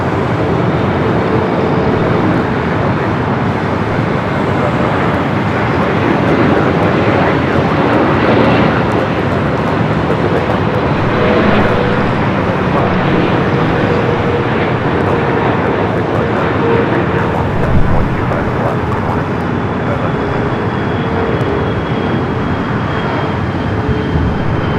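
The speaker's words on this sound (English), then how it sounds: "Air France. Flight 24 coming from Paris. The 777-300ER." An Air France Boeing 777-300ER arriving from Paris into Los Angeles rumbles past in a long, continuous jet roar that swells and holds, fairly close, with a faint thin tone running through it.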